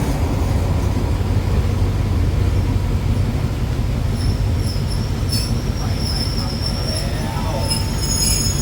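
A Thai-made diesel train, Beyond Horizon, running through a station stop: a loud, steady rumble of wheels and engine fills the whole stretch, with high metallic wheel squeals rising toward the end.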